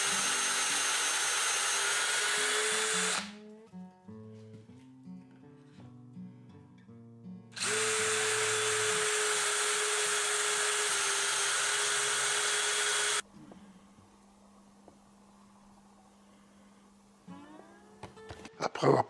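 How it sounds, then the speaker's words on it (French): A power drill bores tuner holes into a wooden guitar neck, running in two steady whirring bursts separated by quieter clicks and handling noises, then gives way to low hum and small sounds. "Après avoir percé les trous des mécaniques,"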